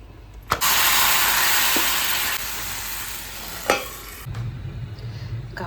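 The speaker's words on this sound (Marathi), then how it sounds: "घावणे होत आहेत." Ghavan rice crepes sizzle on a hot pan: a loud burst of hissing as batter hits the surface, fading gradually, with sharp utensil taps and a softer second sizzle afterward.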